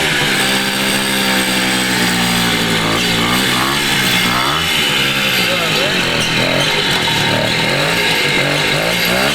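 A 1969 Italian Morini 50cc two-stroke mini bike engine runs continuously close by, with a buzzing, wavering note that rises and falls as it is revved, and people talk over it.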